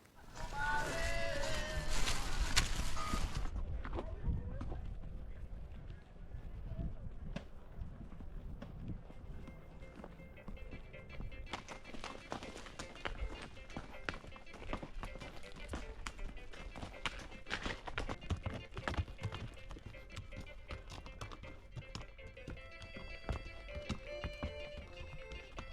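Steady clip-clop of horses' hooves at a walking pace on a trail ride in El Bosque de la Primavera, Zapopan, Mexico, over a busy outdoor background, with a louder burst of voices and noise at the start.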